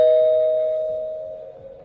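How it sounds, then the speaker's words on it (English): A doorbell gives one clear chime close by. The bright tone rings out and slowly decays over almost two seconds in an otherwise quiet room, with no voices. "That's when someone rang the doorbell."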